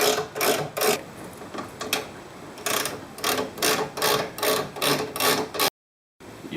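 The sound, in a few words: ratchet undoing a nut on a Holden Commodore radius rod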